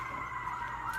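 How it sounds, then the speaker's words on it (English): An ambulance siren passing outside, a steady wailing tone that rises slightly near the end, heard alone at a moderate distance over low background noise. "there's some ambulance action going on. So if you hear that, you know, sorry about that"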